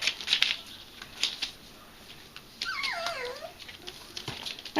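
Puppies whimper and yip in thin, high-pitched cries, with light clicking and shuffling noises around them, close by.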